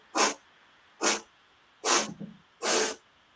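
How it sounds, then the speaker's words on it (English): Four separate sharp sniffs in through the nose, evenly spaced about a second apart, close and clear against near silence, the third followed by a brief soft rustle. "he would breathe in through his nose and he would do 4 sniffs"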